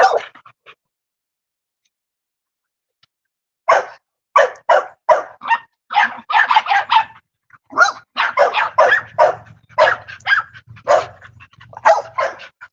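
Puppies in a yard yip and bark in quick, high bursts after a brief pause, overlapping and close, with a low growl-like rumble under some of the barks.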